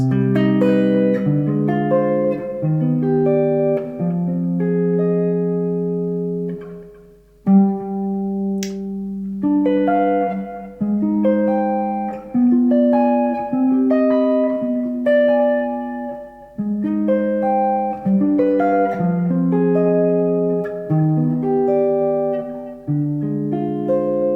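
Sustained chords of a harmonized harmonic minor scale played one after another in a steady stepwise sequence, each ringing clearly with a bright, even tone and short pauses between some chords.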